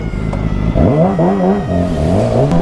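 A motorcycle engine revs up sharply after a brief idle, its pitch rising and dipping in a few throttle blips, close and loud.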